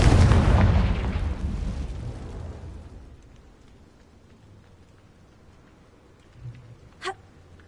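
A Confringo fire spell explodes in Hogwarts Legacy with a loud, close burst at the start. The blast decays into a fading rumble over a few seconds, and two small whooshing bursts follow near the end.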